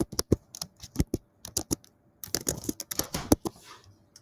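Computer keyboard typing as a password is entered, with rapid clustered keystrokes, brief pauses, then a denser burst of clicks, close and clear with no talking.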